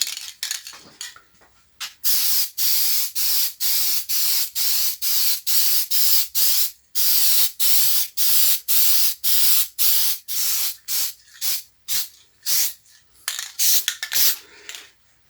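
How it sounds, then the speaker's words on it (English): Spray adhesive hisses from an aerosol can in a long series of short, evenly spaced bursts, each a bright airy spray separated by brief pauses, close and steady with no talking. "use some spray adhesive, let it dry off for a bit"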